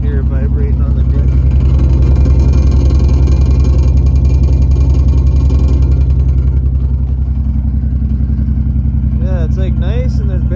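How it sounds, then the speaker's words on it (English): Idling Toyota Supra engine with the exhaust vibrating against the differential, a loud, close, continuous low rumble with a buzzing rattle, and speech over it at the beginning and again near the end. "Kind of hear it vibrating on the diff."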